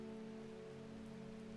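In the video game Strange Horticulture, steady rain falls as a soft, constant hiss, faint and even throughout, with a low tonal hum underneath.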